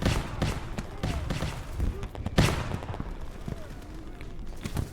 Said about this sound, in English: The sounds of distant fighting is heard inside your hiding place